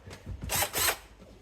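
A power drill bores a 2.5 mm pilot hole through MDF beneath a sink while fitting an undersink water filter: two short loud whirring bursts with grinding bite, close up, separated by a brief pause.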